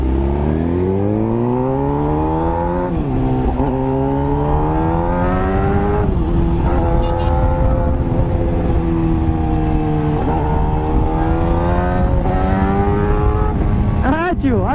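Motorcycle engine revs and accelerates up through gears close by on a street, pitch repeatedly climbing then dropping at each shift, loud and steady over about fifteen seconds, with someone talking underneath.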